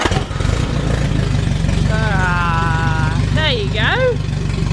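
Car engine cranking, catching and settling into a steady, rhythmic idle, loud and close throughout, while a person talks and exclaims over it.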